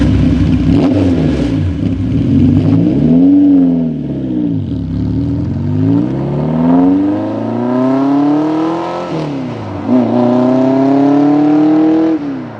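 TVR Cerbera 2+2 sports coupe driving, its engine revving loudly and rising through gears in repeated climbing sweeps, with brief dips between shifts, close and continuous with no talk.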